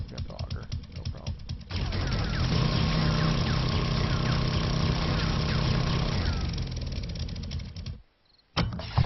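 An auger digging in the survival video game 7 Days to Die, a steady loud grinding drone with a clattering texture that runs for several seconds before cutting off abruptly.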